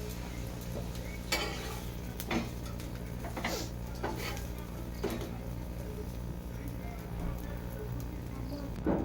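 Continuous sizzling of a cauliflower paratha frying in oil, with occasional clinks and scrapes of a utensil against the pan.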